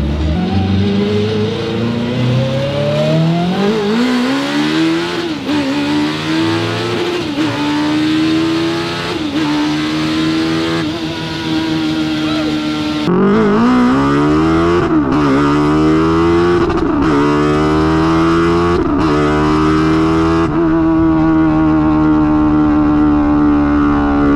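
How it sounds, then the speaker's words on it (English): A high-revving Suzuki Hayabusa motorcycle engine in a Mazda Miata climbs in pitch again and again, loud and close, with brief drops between gear changes; no talking. "You get the sensation of a high revving engine"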